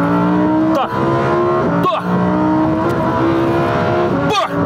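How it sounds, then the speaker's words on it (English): Lamborghini Huracan Performante engine at high revs, loud and close, with three very quick gear shifts, each a brief dip in the snarl before it climbs again. "I have never ever met a car with such a fast shifting"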